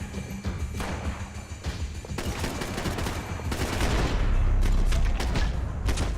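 Heavy gunfire in the Max Payne 3 shooter, dense overlapping shots and bursts building into a loud, continuous barrage over a steady low rumble, with no talk.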